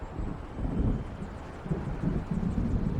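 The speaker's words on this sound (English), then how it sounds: "It seems there's a storm coming." Low gusting wind of an approaching storm in Alan Wake Remastered, a soft rumbling roar that swells and ebbs in slow waves, moderately quiet and steady with no voices.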